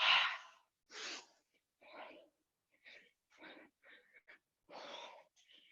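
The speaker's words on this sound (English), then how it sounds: "Lots of breath." Heavy rhythmic breathing during a dance warm-up, a series of about eight loud breathy exhales and inhales with short pauses between, close to the mic.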